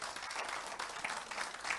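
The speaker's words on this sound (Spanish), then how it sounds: "Dele un aplauso al Señor, por favor." A church congregation applauding during a sermon, a dense, continuous patter of many hands clapping at moderate distance throughout.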